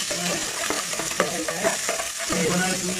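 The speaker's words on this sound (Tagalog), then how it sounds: "Painitin ang kawali. Itong bawang. Ayan guys. Igisa natin." Garlic sautéing in hot oil in a pan, with a loud, continuous sizzle and frequent stirring clatter close up.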